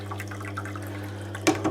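Water splashes onto a Tormek sharpening stone over a steady machine hum, with one short splashy burst near the end.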